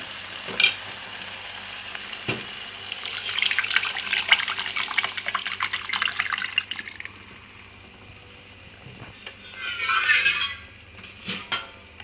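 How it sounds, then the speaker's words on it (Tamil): Tomato water poured into a hot pan for tomato soup, a sustained hiss and sizzle that swells, fades, then returns briefly with splashing and a few knocks, fairly quiet with no talking. "இப்போ தக்காளி சூப்பு, தக்காளி கரைச்சி வச்ச தண்ணி வந்து ஆட் பண்ணிடலாம்."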